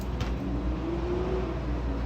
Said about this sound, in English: that's a garbage truck outside